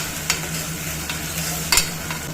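Field bean seeds fry in a pan, giving a steady low sizzle, while a spoon stirs them and scrapes the pan in a few sharp strokes.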